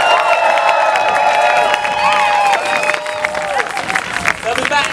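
A loud, close crowd at an outdoor climate demonstration with a sound system cheers, claps and whoops continuously, with shouting voices mixed into the roar throughout.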